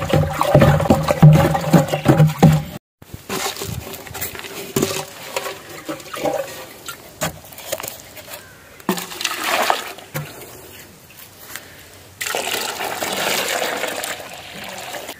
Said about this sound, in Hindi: अभी इसे मिक्स कर देते हैं, शेक कर देता हूँ इसे ताकि ये बिल्कुल ताज़ा हो जाए फिर से